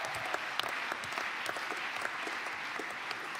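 Sustained applause from a large crowd at a CDU party convention, a steady dense patter of many clapping hands filling the hall, with no voices on top.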